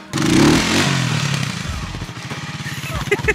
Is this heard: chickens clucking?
no